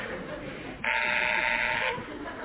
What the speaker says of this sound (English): there goes number 1 on his darling little buzzer again